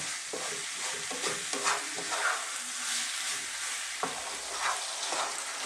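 Pork and mushroom curry sizzling steadily in a pan, with scraping stir strokes and soft clatters recurring throughout at close range, no talking over it.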